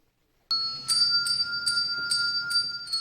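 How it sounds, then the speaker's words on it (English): Bright bells ring out repeatedly in a steady rhythm, clear and resonant with lingering tones, after a moment of silence, at a Christmas benefit concert in Nibley. "Ringing bells helped people get in the giving mood at the concert."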